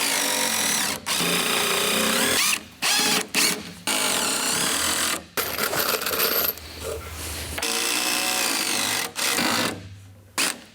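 A power drill drives screws through the sides of built-in wooden shelves, whining loudly in long runs that stop and start abruptly, with brief quiet gaps between bursts.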